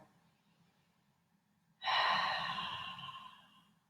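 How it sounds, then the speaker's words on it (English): A deep breath drawn in during a guided neck and shoulder stretching exercise, starting abruptly after quiet and sustained as a close, breathy rush that slowly fades. "I want you to go there and take a breath."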